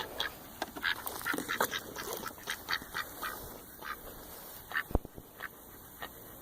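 Ducks quack repeatedly outdoors in a loose, busy chatter, moderately close, with a couple of sharper knocks partway through.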